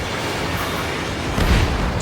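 Explosion of a hit target in the flight combat game Ace Combat 7 with an F-22, a loud dense roar of jet and combat noise with a brief deeper boom swelling in the middle.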